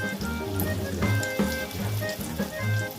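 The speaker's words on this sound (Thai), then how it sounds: "ใส่ไข่ลงไปแล้วก็ใส่แป้งไปที่หนา แล้วก็ทอด" Egg-battered eggplant fries in hot oil with a steady sizzle and crackle, broken by a few soft pops. Faint tonal background sounds run underneath.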